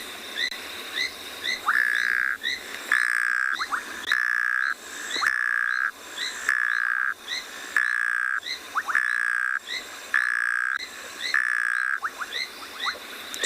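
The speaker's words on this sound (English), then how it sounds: "So it sounds like a little froggy that's snoring." A small frog's recorded call repeats about ten times in a steady rhythm, each a rasping, snore-like croak paired with a short chirp, loud and close with nothing else heard.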